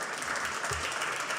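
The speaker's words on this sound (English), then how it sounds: "So how about a round of applause for Dean Sam Graham for coming here from Georgia Tech." Applause rises from an audience at a hall of fame ceremony, a soft, even wash of clapping heard at a distance with no voices over it.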